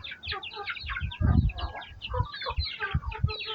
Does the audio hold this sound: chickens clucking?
yes